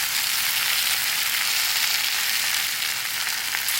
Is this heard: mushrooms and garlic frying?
yes